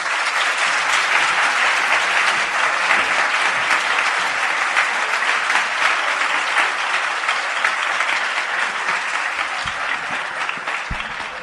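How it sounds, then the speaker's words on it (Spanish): Loud, sustained applause from an audience at a talk, a thick continuous wash of clapping lasting throughout, close and unbroken, with no voices over it. "démosle un fuerte aplauso a Sol Blanco Soler"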